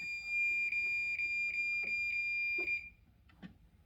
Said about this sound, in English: Alright, so now if I pull it, should go off. There we go. Now it is going off.